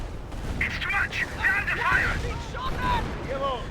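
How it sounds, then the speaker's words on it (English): Howitzer artillery barrage and gunfire in the Company of Heroes strategy game, a steady rumble of distant booms and cracks running beneath continuous talking. "We've got howitzer barrage or off-map howitzer barrage running on it."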